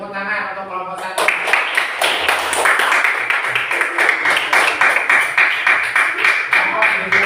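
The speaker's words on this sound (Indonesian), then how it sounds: "Beri tepuk tangan untuk kelompok 1." A classroom audience gives group 1 a round of applause, a dense steady clapping from many hands that starts abruptly after a brief moment of talk and continues loud and close throughout.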